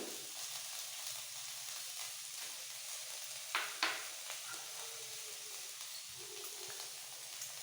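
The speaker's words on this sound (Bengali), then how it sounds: "এটা আমি কিছুক্ষণ নাড়াচাড়া করে ভাজবো" Onion, ginger, garlic and green chilli for egg devil sizzle quietly in a pan, a soft steady frying hiss broken by two brief sharp scrapes of stirring, close and unaccompanied by speech.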